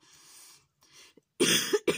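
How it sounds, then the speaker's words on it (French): After a stretch of quiet breathy sounds, a person coughs two or three times in quick succession, close and fairly loud. "Donc je vais tousser"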